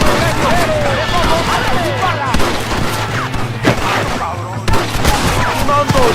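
Gunfire in the Red Dead Redemption video game: rapid, overlapping shots and sharp cracks in a loud, continuous battle din, with shouting voices and musical tones running underneath throughout.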